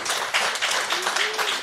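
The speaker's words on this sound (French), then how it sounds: "Merci de l'encourager sur vos applaudissements" Audience applause at a French mayoral investiture and medal ceremony in Anse, steady clapping from a crowd filling the clip at moderate level, with a faint voice under it.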